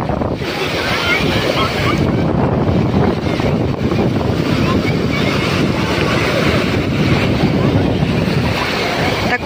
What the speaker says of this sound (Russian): Такой ветер, я не знаю, вы слышите меня или нет, мои дорогие.